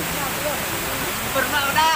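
Waterfall roars as a dense, steady rush of falling water, loud and close, with a voice speaking faintly over it toward the end.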